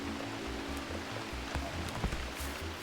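Rain falling in the gardening video game Garden Life, a steady soft hiss of drops with occasional small patters, gentle and even throughout, alongside a repeating low muffled tone from the game.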